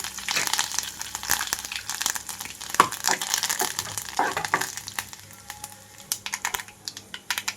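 Curry leaf sprigs and tempering seeds fry in hot oil for a bitter gourd fry, giving a steady close sizzle with dense crackling pops and sharp spits throughout, louder early and easing slightly toward the end.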